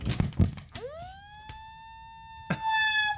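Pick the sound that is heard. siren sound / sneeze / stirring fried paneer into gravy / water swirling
siren sound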